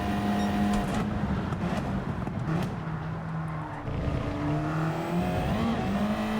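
Race car engine in the Gran Turismo driving game, revving hard and pulling through gears with steady droning pitch sweeps, loud and continuous, with tire noise and a brief dip before surging again.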